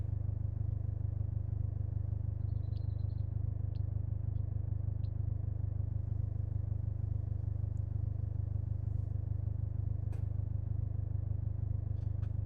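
A low, steady car engine rumble drones throughout, like an idling car heard from inside in the video game SCUM, with a few faint ticks and clicks on top.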